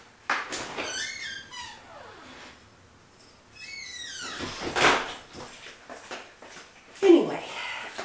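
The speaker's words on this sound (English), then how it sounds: "I'm going to let my dog in" A pet dog is let into the house: a door slides and clunks while the dog gives short squeaky whines and yelps, with a voice speaking briefly in between.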